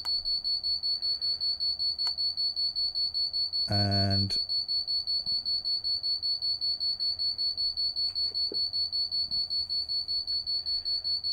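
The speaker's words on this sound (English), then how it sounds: "I've now got an alarm going off." An alarm in a Train Simulator 2020 cab on the South Western Main Line beeps in a rapid, even pulse throughout, with a brief louder burst partway through and a few spoken words.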